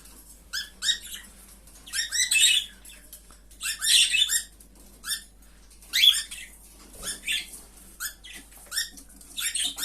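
Pet birds in a cage chirp and twitter after a newly paired male and female are put together, bright bursts of song recurring in clusters through the clip, fairly close, with no talk.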